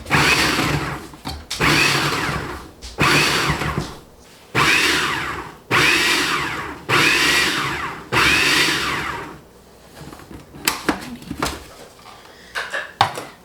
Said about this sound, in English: you're going to pulse this a few times until you've got a chunky, sandy mixture